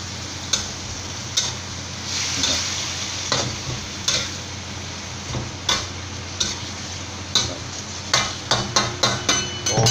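Chinese kale stir-frying with crispy fried gourami fish in a wok, a loud close sizzle punctuated by sharp metallic spatula knocks that quicken into rapid tapping near the end, without any talking.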